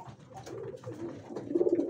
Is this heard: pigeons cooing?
yes